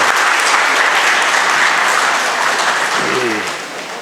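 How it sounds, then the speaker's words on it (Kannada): An audience at a book release event applauding the Kamath family with loud, dense, sustained clapping from a large crowd that tapers off near the end as a voice briefly begins. "ನೀವೆಲ್ಲ ಸೇರಿ ಜೋರಾಗಿ ಒಂದು ಚಪ್ಪಾಳೆಯನ್ನು ಈ ಕಾಮತ್ ಕುಟುಂಬದ ಸಲುವಾಗಿ ಮಾಡಬೇಕು"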